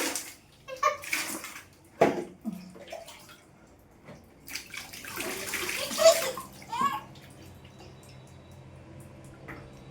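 Water splashing and sloshing in a tub during a small child's bath at home, in intermittent bursts with a voice and an adult talking between the splashes.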